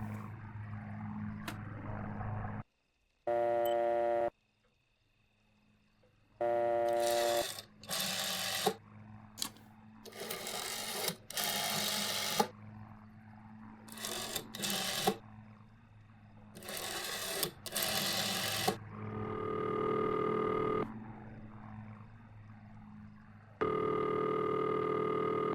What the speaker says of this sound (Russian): 6938, я звоню.